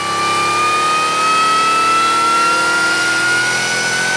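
A supercharged Ford Godzilla 7.3L V8 fitted with a Harrop supercharger, running on a test: a loud, steady, close engine roar held at high revs, with a rising supercharger whine running through it.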